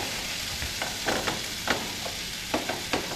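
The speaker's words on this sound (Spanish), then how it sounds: "Vamos a mezclar así ligeramente para que vaya fundiendo el queso." Cheese melts in a pan as it is stirred, with soft scattered scrapes and light taps of the utensil over a quiet, low sizzle, all heard up close.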